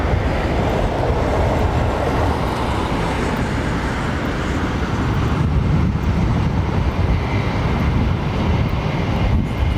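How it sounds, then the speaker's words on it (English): Airbus A380 airliner at London Heathrow Airport, a loud, steady broadband jet roar that holds unbroken throughout, close and dominating with no other sounds rising above it. "Gotta love an A380"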